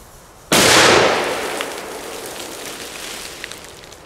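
An FP3 firecracker goes off with a single sharp, loud bang, followed by a long rumbling echo that slowly fades over several seconds, with faint crackles near the end.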